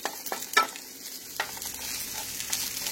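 Onions fry in a pan, a close continuous sizzle with a few spatula clicks and scrapes early on, no one talking.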